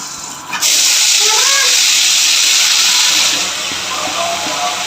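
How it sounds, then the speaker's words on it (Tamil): Masala dropped into hot oil left over from frying fish hisses and sizzles loudly, a sudden burst that stays as a dense, close, continuous crackle. "மீன் பொறிச்ச எண்ணெய் இருக்குல்ல அதில் வந்து இந்த மசாலாலாம் போட்டுக்கணும்"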